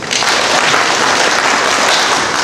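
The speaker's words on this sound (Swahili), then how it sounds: "nao tuwapigie makofi" An audience at a school ceremony honouring secondary teachers claps together in a dense, steady burst of applause, loud and close, with no voices over it.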